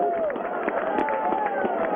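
A high school football crowd in the stands cheers and claps after a safety late in the fourth quarter, a steady mass of voices and applause heard from a distance under the game's bustle.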